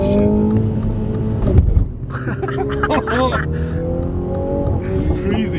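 A Mini Cooper JCW on the road, its engine note steady and close inside the cabin as it drives, with a brief thump partway through and people talking loudly throughout.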